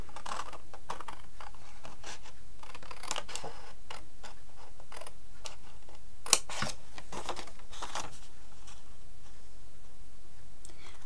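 Scissors cutting paper while crafting a small case from paper, a series of light irregular snips and crisp rustles, close and fairly quiet, with one sharp click midway.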